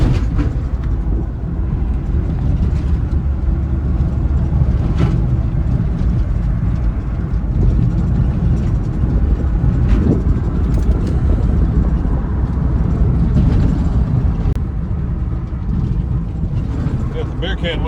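A 1980 Ford F100 truck, revived after 29 years, driving along with a loud, constant low engine and road rumble heard from inside the cab, rising and easing as it shifts through the gears, with someone talking over it.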